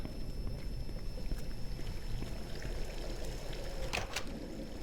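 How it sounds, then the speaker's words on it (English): Water flows and pours in a steady, close wash in the video game INFRA, with faint trickles and splashes and a brief brighter splash near the end; no voices. "You can hear water."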